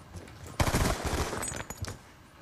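Rapid bursts of gunfire in the video game Black Ops 2, a loud automatic volley starting abruptly and continuing in uneven clusters before tapering into a few final shots.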